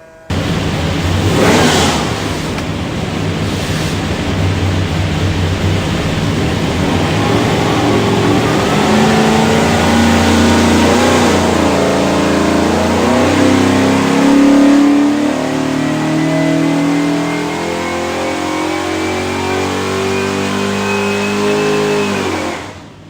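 A 427ci small-block Ford V8 with an Edelbrock Air-Gap intake and MSD Pro Billet ignition, built for a '65 Mustang, revs on a dyno pull, its loud, steady roar climbing in pitch for about twenty seconds.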